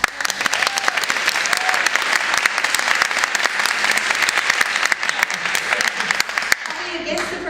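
A conference breakout audience applauding to vote, dense sustained clapping that runs loud and even for several seconds before cutting off abruptly, followed by a short stretch of quieter room sound.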